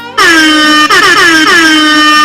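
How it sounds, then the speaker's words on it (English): A loud, blaring air horn sounds continuously, its brassy tone briefly stuttering twice before holding on to the end. "How long I gotta get an air horn for him"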